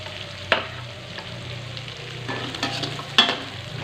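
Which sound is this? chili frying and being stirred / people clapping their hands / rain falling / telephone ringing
chili frying and being stirred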